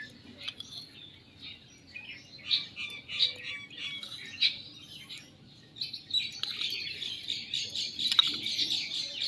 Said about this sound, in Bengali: আর এদিকে পাখি কিভাবে ডাকছে,